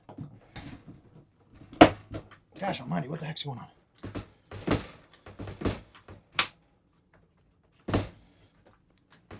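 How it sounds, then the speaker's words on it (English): The door latch on a 2025 Della Terra 275BH camper trailer rattles and thunks in several sharp, close knocks scattered between bursts of someone talking. "There's the latch right there."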